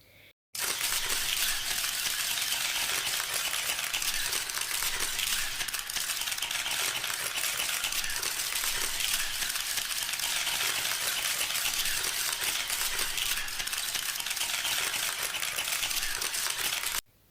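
Onions stirred in a pan while cooking Kuwaiti-style chicken machbos, giving a steady, close, broadband sizzle with faint scraping that runs evenly throughout, with no talking.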